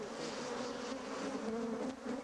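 A honeybee swarm in flight during swarming, before settling on a branch: a dense, steady buzzing drone holding at an even level throughout, close and continuous with no voices.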